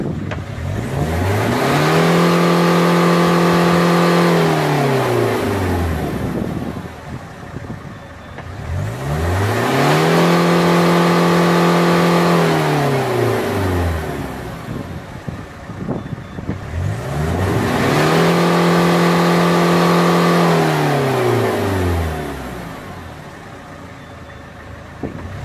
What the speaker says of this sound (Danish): Og give fuld gas, når apparatet siger det.